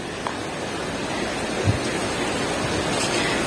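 A deep river flows below a cliff path near Cadas Pangeran, a steady broadband rushing wash of water, fairly loud and unbroken, with no voices.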